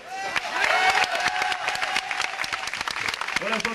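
A crowd claps at a 1989 cycling criterium in Vienne, with steady applause and scattered cheers under a commentator's voice.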